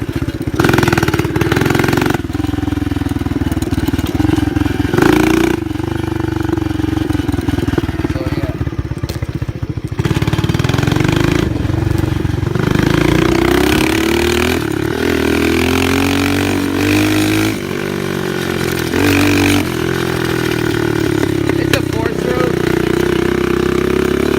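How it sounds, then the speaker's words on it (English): A dirt bike with a blown muffler roars loudly and close throughout while being ridden, its engine pitch rising and falling with the throttle without a break. "my muffler kind of blew. So that's always fun. So now you can hear how loud it is."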